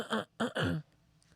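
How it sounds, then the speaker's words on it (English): A man clears his throat three times in quick succession, close and fairly loud, followed by quiet. "Let me clear my throat."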